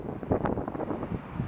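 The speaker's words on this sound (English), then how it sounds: "it is windy as fuck out today" Strong wind buffets the microphone outdoors, a loud, steady broadband roar with gusting surges throughout and no talking.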